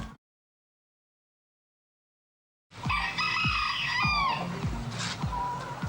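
Brahma chicken heard close up after a silent start, rapid low clucks repeating under a loud, drawn-out crow that falls in pitch, followed by more clucking.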